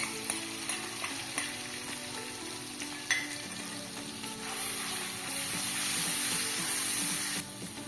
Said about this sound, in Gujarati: હવે આપણે ભાજી માટે વઘાર તૈયાર કરી લઈએ